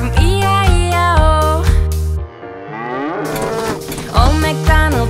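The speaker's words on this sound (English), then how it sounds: "With a moo-moo here and moo-moo there." Cow moos in a nursery rhyme song, several strong harmonic lowing calls set against musical backing, loud and close, with a short pause in the middle.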